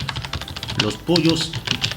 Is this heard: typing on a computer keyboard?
yes